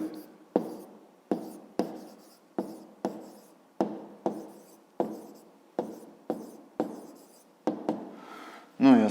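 Handwriting during a fifth-grade math exercise: a regular series of about fourteen short, sharp pen taps and strokes on paper, close and clear, each fading quickly, ending in a louder rustle.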